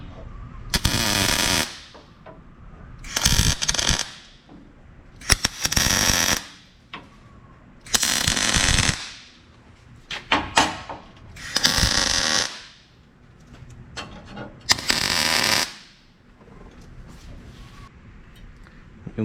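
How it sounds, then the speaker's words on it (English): Welding on trailer hangers of a tandem axle trailer: loud bursts of crackling arc, about seven short tacks of one to two seconds each, separated by brief pauses of background noise. "now I can tack weld them on"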